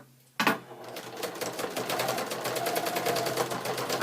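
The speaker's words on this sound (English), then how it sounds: "Now I'm going to go back to straight stitch. I'm on the cheesecloth." A sewing machine starts with a sharp clunk, then runs a straight stitch on cheesecloth, its rapid rhythmic needle clatter building and holding steady close up.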